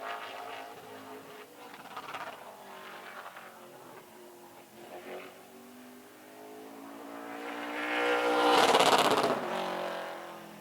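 Modified-class race car circling the Wiscasset track, engine note rising and fading as it passes, building to a loud close roar near the end before receding, alone with no talk.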